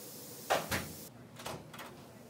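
Hospital procedure-room door closing behind a cardiologist and sonographer as they leave, a couple of soft thuds and a latch click followed by quieter rustling, near and moderately loud with no talk.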